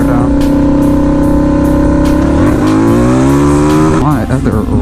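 A turbocharged Harley V-Rod motorcycle roars loud and close in first gear, its engine note climbing steadily and then dipping and surging as it accelerates, with a voice faintly underneath.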